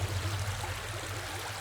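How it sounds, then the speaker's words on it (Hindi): River water flowing nearby, a continuous soft broadband rush with a low steady hum underneath, fairly quiet and even throughout. "पानी की आवाज लगती है।"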